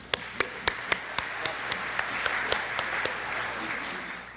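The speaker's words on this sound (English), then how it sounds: "Please help me give these members a round of applause." Audience applause at a regional chamber of commerce networking luncheon, a steady wash of many hands clapping with several sharp, louder claps standing out near the front, fading slightly toward the end.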